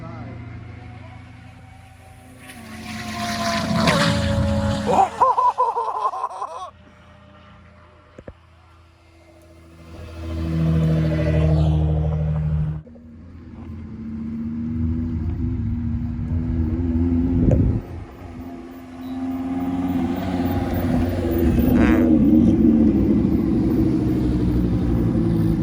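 Cars race past on an airstrip drag event, loud engine roars rising and falling as each passes, separated by quieter gaps, with excited voices speaking over them.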